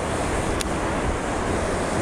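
Water rushes loudly over a dam in a constant roaring wash, with wind gusting against the microphone and one brief sharp tick partway through.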